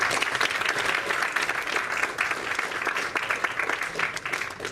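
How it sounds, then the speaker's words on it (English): An audience at a startup pitch event claps after a game studio's pitch, sustained, energetic hand-clapping from a sizeable crowd that rises and falls slightly in intensity but carries on for the whole stretch. "Keep clapping as we invite our next pitcher to come to the front, please"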